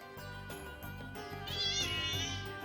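A cat meows in the game Bravely Default 2, a drawn-out, rising mew heard over game music, moderately close.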